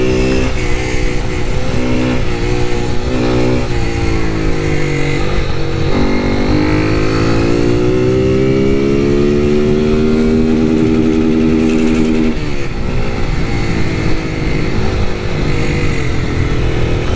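Honda Start 160 2023 motorcycle with an aftermarket exhaust, revving loudly and close, engine pitch rising and falling through repeated throttle blips over a rumbling idle, with no speech.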